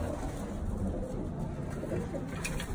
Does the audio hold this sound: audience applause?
no